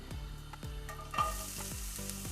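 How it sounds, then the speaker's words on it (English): Sliced onions hit a hot frying pan and sizzle steadily for a simple Italian tuna pasta, with a crackling hiss and rhythmic scraping of a spoon stirring, no voices. "Now we're gonna put the onions."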